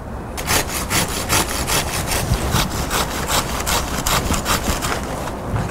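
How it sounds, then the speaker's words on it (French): A hand saw cuts through a dry magnolia branch in steady, rapid back-and-forth strokes, about a dozen rasping pulls, close and loud with no talking. "je vais la couper avec ma scie à ce niveau-là"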